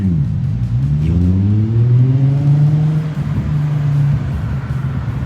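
A yellow Nissan Fairlady Z's engine rumbles and revs as it drives by close, the pitch rising through gears, then easing off.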